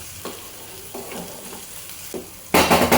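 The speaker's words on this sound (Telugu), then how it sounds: "ఇప్పుడు ఇందులో ఒక ½ టేబుల్ స్పూన్ పసుపు వేసాక మంచిగా ఒకసారి కలిపేసుకోవాలి" Turmeric is stirred into bottle gourd frying in oil for an omelette-style curry. Soft spoon scrapes sound over a low sizzle, then a sudden loud burst of frying near the end.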